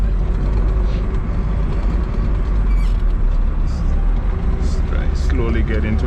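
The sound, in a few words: car accelerating in second gear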